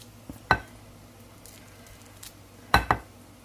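A knife chops fresh cilantro on a cutting board for fish tacos, giving a few sharp isolated thuds, one early and a quick pair later, against a quiet kitchen background.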